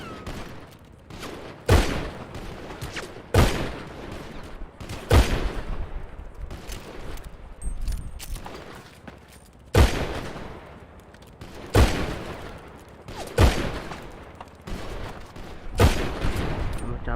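Repeated loud gunshots ring out in a roleplay video game, sharp cracks spaced about every one to two seconds over a low rumbling background, with occasional faint voices.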